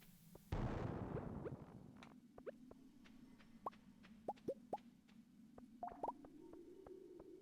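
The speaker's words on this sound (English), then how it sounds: "Let's just go ahead and use our one little old bomb up here." A bomb in Stardew Valley goes off with one sudden loud blast that decays over about a second, followed by quiet scattered plinks and pops of falling debris.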